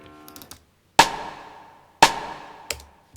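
A side stick hit from the Logic Pro Two-Step Remix drum kit cracks out twice as sharp, dry clicks with short decaying tails, followed by a softer third hit, after a brief fading musical tone.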